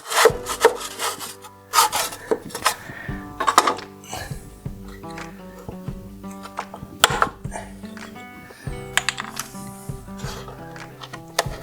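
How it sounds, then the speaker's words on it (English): Paint being scraped off a wooden staircase with a hand scraper: repeated, irregular rasping strokes, close and fairly loud, over a steady tonal background. "you see I still have to scrape to get everything"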